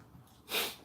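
A single short sneeze bursts out at close range, breathy and hissing, after a brief quiet moment during a tabletop board game session.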